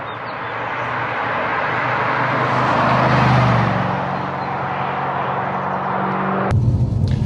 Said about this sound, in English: let's pull away and let's see what this car can do